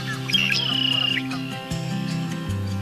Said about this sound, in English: The sounds of birds of all sizes as they again begin their daily routine.